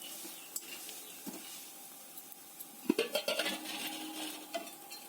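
Flattened rice (chira) fries in hot oil in a wok for homemade chanachur, giving a soft steady sizzle broken by a few sharp scrapes and clinks of stirring, with a busier clattering stretch midway, close and quiet.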